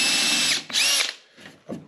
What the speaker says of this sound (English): I can drill in a pilot hole with a countersink.